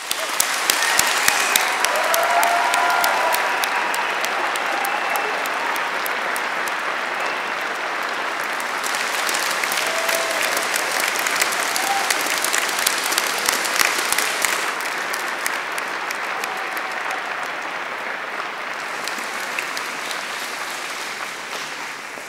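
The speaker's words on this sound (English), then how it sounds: "applause." Long, sustained applause from a large audience at a University of South Wales graduation ceremony, dense hand clapping that swells and eases in waves, fading slightly near the end.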